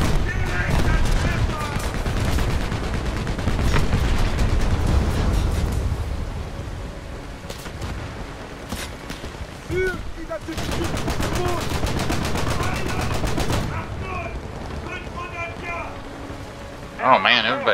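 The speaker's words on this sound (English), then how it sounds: "Fire the guns." Heavy naval guns fire repeatedly during a War Thunder sea battle, a dense stream of loud booms and rattling bursts that thins midway and then returns, with a voice talking over parts of it.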